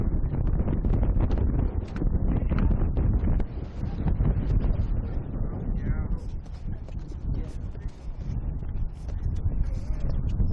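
Strong wind buffets the microphone at a dam with a loud, continuous roaring rumble that rises and falls in gusts throughout.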